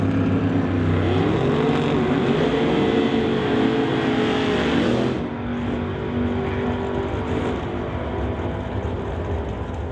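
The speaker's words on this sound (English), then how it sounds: "Warren Jacobson brings up the 67 Chevy 2 to race Brad Vinja in the BNC Racing Camaro." A 1967 Chevy II and the BNC Racing Camaro drag race in an NHRA Summit ET Series event, their loud engines roaring steadily with a rising, revving pitch before the sound drops to a lower, distant drone.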